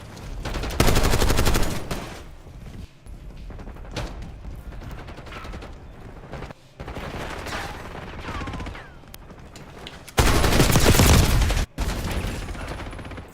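Rapid submachine gun fire in a Call of Duty match, loud bursts that start and stop with short pauses and mix with other game effects and mechanical clatter.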